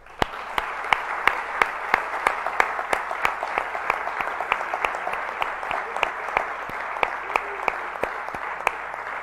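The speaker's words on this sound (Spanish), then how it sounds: "os voy a pedir un aplauso para todos esos seres queridos que están mirándoos" Sustained audience applause at a graduation ceremony for an engineering school, honoring absent loved ones watching online; dense, steady clapping fills the hall from start to finish, with a few sharper claps standing out near the front.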